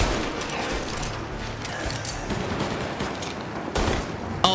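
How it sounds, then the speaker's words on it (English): Suppressing gunfire from the video game Mafia crackles in a dense, continuous burst of rapid shots, loud and close, ending with a sharp louder crack. "Suppressing fire."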